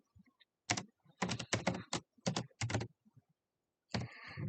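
Typing on a computer keyboard, close bursts of rapid key clicks in several quick clusters separated by short pauses.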